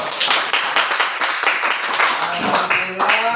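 A classroom of students claps together in a short burst of brisk, dense applause lasting a few seconds, with a voice briefly heard near the end.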